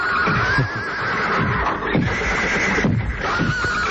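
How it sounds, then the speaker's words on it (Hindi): A horse neighs in an old Doordarshan television serial, with repeated whinnying cries that rise and fall over a noisy, busy background, close and fairly loud. "ये क्या घोड़े रखे हुए हैं?"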